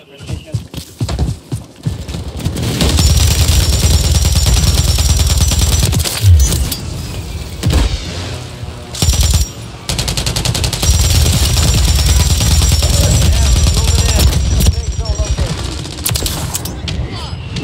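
Rapid automatic gunfire from a weapon in MW3 Warzone rattles loud and close in long sustained bursts, broken by short pauses and single shots, with voices talking over the shooting at times.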